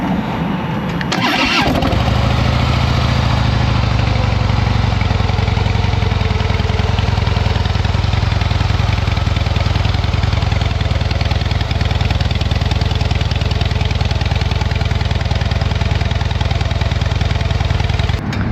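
A 2013 Harley-Davidson Heritage Softail Classic with its stock exhaust, started and then settling into a steady, loud, close idle rumble that runs unbroken for the rest of the clip.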